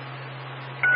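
Telephone keypad dialing tones, a short burst of two quick beeps near the end of a second over a steady low electrical hum.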